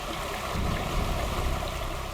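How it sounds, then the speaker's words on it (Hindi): Waterfall at a scenic outdoor spot gives a continuous, dense rush of falling water that stays loud and steady throughout, with no voices. "सामने देखो वाटरफॉल कितना सुंदर है ना"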